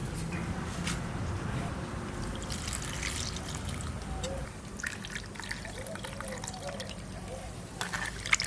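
Leafy note shak greens being washed by hand in water, with quiet trickling, splashing and dripping close by, plus scattered clatter and faint voices in the background.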